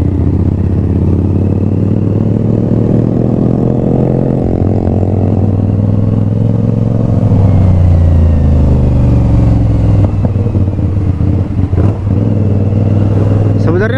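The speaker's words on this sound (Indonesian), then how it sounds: "Sebenarnya knalpot ini juga udah enak ya cuy," A CFMOTO 450SR motorcycle idles and revs loudly up close through its exhaust, with the engine pitch rising and falling in several revs while voices talk over it.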